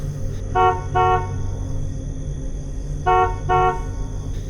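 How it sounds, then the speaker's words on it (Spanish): A taxi's horn gives two short double honks, a pause, then two more, over a steady low engine rumble. "Toqué el claxon"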